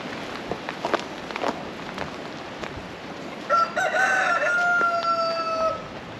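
Backyard chickens scratch and cluck quietly with light footsteps, then a rooster lets out one loud drawn-out crow, close by, lasting a few seconds before fading.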